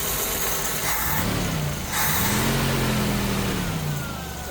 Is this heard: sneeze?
no